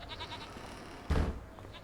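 A single short goat bleat rings out in the farming game Farming Simulator 25, loud and close, rising briefly over a quiet, low ambient background.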